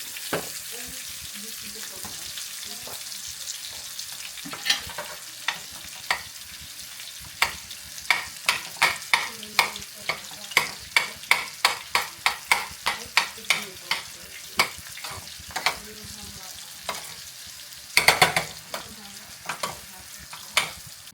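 Rice reheating in a hot pan for a honey-glazed salmon meal, a steady frying sizzle with many sharp scraping stirs in a fairly regular rhythm and one louder clatter near the end, close by with no talk.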